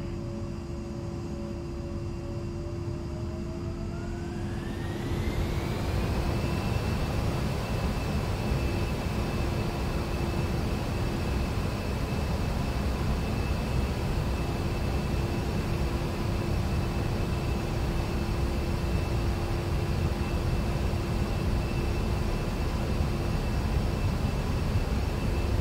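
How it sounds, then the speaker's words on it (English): An A-10C jet's engines spool up in the DCS World flight simulator during the takeoff roll: a steady roar with a whine rising in pitch, then holding a loud, even drone, no talking. "You can begin your takeoff roll."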